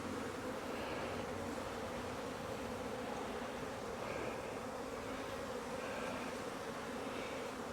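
Honeybees buzz continuously around an open hive as brood frames are inspected, a dense, steady drone that fills the whole stretch with no voices.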